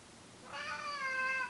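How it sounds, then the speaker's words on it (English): A cat meows once, a clear, drawn-out rising-and-falling call, close and fairly faint against a quiet background. "You're just gonna sit there and meow?"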